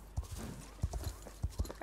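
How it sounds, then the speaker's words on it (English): A horse gallops in Star Stable Online, its hooves pounding in quick clustered beats, close and distinct, with a voice briefly audible under them. "let's gallop all the way home"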